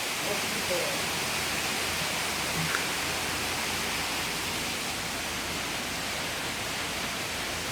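Water flows steadily through a stream inside a cave, a constant broad rushing wash with no pauses, fairly loud and close throughout.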